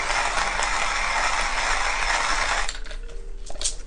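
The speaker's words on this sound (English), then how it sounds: "So I've been grinding there for I don't know how long" Coffee beans being ground in a Hario Skerton manual burr grinder give off a dense, continuous crunching rasp up close that stops abruptly, leaving scattered clicks and rattles.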